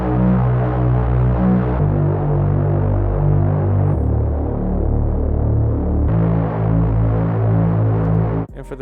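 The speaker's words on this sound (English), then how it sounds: "All alone, the bass sounds like this." A synth bass from the Bright and Dark pad preset in Pigments, shaped with EQ, plays alone as sustained, throbbing low tones that shift pitch every couple of seconds in a steady pop-beat line.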